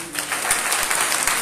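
Congregation applause at a church service led by a pastor in Dhariwal village, a dense steady clatter of many hands clapping at close range for the whole moment, with a few voices mixed faintly underneath.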